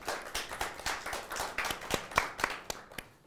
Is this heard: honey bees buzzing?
no